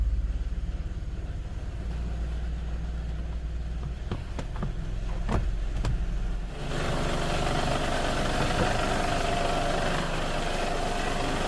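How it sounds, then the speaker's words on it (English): A 6-cylinder 2009 car engine idles rough with a low, uneven rumble and a shuddering vibration, a few sharp clicks partway through, then the tone turns brighter and louder. "Low idle, vibration on the engine."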